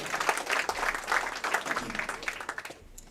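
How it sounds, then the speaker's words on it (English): Crowd at a high school athletic hall of fame ceremony gives a round of applause for the event's supporters, a full burst of clapping that swells and then trails off into quiet at the end. "another round of applause for the special people that make this event"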